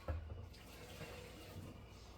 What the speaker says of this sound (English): So I'll siphon a little more of that water off.